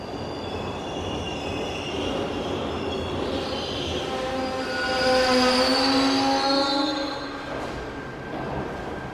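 Locomotives move around a railway shed, making a steady rumble with long metallic wheel squeals that build and fade.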